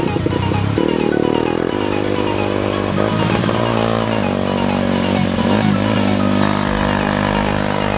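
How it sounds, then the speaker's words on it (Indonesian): A motorcycle on a Sunday morning group ride toward Tawangmangu roars loudly up close with a raspy, drag-bike-like exhaust, revving up and down in shifting pitched bursts over eight seconds, and no one speaks. "suaranya udah kayak motor drag aja ini, berbet-berbet"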